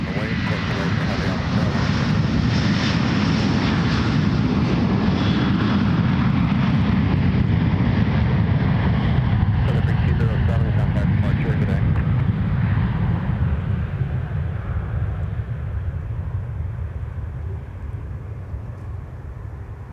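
A heavy jet airliner rolls and climbs out from runway 12 Left at Minneapolis airport, its engines a loud, continuous roar that gradually thins and fades over twenty seconds, with radio chatter beneath it.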